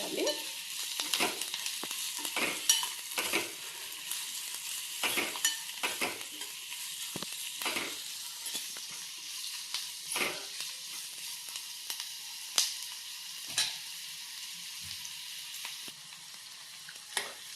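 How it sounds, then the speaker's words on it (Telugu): Onions sizzle steadily in a pan while a spoon scrapes and stirs at irregular intervals, close and clear clatter over a constant frying hiss, no voices. "ఆనియన్ అయితే వేగిపోయాయండి మరీ ఎక్కువ వేగనివ్వకూడదు"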